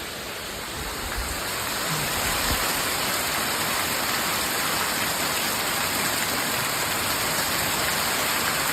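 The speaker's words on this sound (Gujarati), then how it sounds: "અત્યારે છે ને વરસાદ ચાલુ છે" Steady heavy rain pouring down during a thunderstorm, a dense, even rushing hiss that holds constant and fairly loud throughout with no voices.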